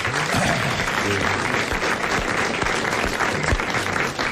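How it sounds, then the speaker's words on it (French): A studio audience at a 1985 French television show claps steadily and loudly, a dense continuous applause that fills the whole stretch. "vous applaudissez Monsieur Marandon de Grande-Sainte."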